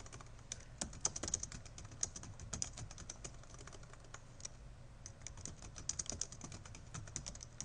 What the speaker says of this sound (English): let me just go ahead and I'm just going to type anything in.